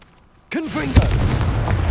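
A Confringo blasting spell from Hogwarts Legacy goes off as a sudden loud explosive burst with a rising whoosh and sharp boom, then a rumbling tail.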